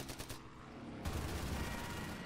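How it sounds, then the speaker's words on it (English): Gunfire in a World War II video game, with a burst of rapid shots followed by a sustained, dense rattle of fire at moderate distance and no talk. "See if we can shoot this guy down."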